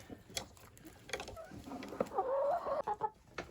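Chickens cluck and murmur close by, with a rising run of clucking calls amid scattered pecking and scratching sounds.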